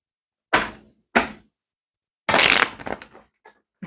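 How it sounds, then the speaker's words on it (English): Tarot cards shuffled by hand in a few separate bursts of riffling and sliding, close and fairly crisp, with short silences between them and no talking. "Stop shuffling already."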